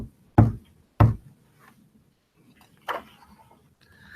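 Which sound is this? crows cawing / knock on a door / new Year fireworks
knock on a door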